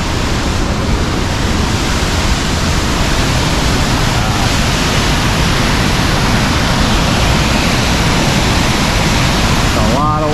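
A loud, constant roar of falling water at Sol Duc Falls in Olympic National Park fills the whole stretch, dense and unbroken, like standing close to a powerful waterfall.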